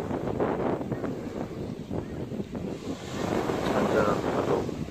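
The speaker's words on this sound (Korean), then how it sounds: "잔잔한 파도," Calm sea waves wash onto a small sandy beach at Gijang, Busan, a steady broadband surf wash with strong wind buffeting the microphone and swelling slightly toward the end.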